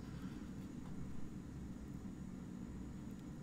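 Aircraft engines drone steadily as supporting planes fly in during a war strategy video game, a dense low rumble with no voices.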